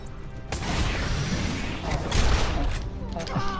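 Shotgun blasts in Batman: Arkham Asylum, loud booming shots mixed with clanking game action and speech over the top.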